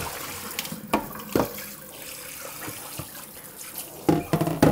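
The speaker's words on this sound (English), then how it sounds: "Keep giving it the hot water." Hot tap water runs and splashes over frozen smartphones, a Samsung Galaxy S9 Plus and an iPhone X encased in ice, a continuous close hiss with irregular knocks and clunks as the phones are handled.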